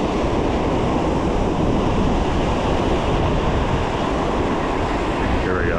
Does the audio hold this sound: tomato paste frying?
no